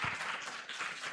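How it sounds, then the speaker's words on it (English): Brief burst of audience clapping at a pan-African summit, a short moderately quiet patter of hands that carries across the hall without any talk over it. "A round of applause for the name already."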